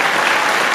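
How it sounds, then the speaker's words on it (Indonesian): A school audience applauding steadily and loudly after a debate on Arabic grammar between fourth- and fifth-grade Islamic primary classes, a dense wash of clapping from many hands. "Tepuk tangan untuk kelas 4 dan kelas 5 ibtidaiyah."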